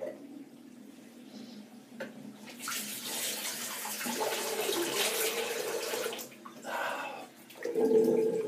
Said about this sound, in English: I'm just going to drain this water out.